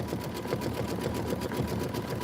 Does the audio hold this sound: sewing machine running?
yes